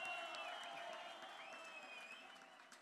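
Concert audience applauding at a live folk music performance in North Macedonia, a steady dense wash of clapping that holds fairly loud throughout and fades slightly toward the end, with no voices standing out.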